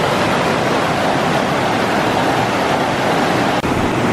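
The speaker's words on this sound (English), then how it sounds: "This is that same waterfall." A waterfall at Spruce Lake, Canada, gives off a steady, dense roar of rushing water that holds close and loud throughout, with no voices.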